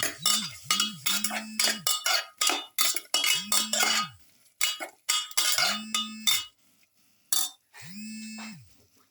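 A metal spoon stirs salt through a pepper garlic beef stew in a pot, producing quick bursts of scraping and clinking against the metal sides, with brief pauses between strokes and a low tonal hum recurring underneath.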